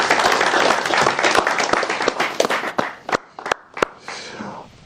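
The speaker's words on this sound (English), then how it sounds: "More round of applause." Audience applause at a youth dialogue event, dense clapping at first that quickly thins into a few scattered, separate claps before dying away.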